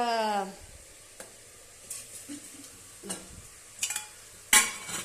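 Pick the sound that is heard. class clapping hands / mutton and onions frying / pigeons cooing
mutton and onions frying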